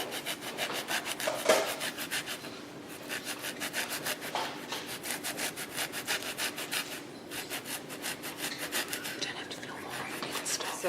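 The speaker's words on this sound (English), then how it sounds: "Just finely grate the zest of an orange." The zest of an orange is finely grated for star biscuits, giving close, steady rhythmic rasping strokes with short pauses between the runs. There is no speech over it.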